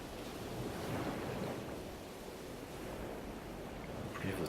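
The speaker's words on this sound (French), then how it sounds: "Plus votre respiration entre en harmonie avec le son des vagues," Ocean waves wash in as a soft, continuous broadband rush, faint and distant, rising and falling gently with no voices.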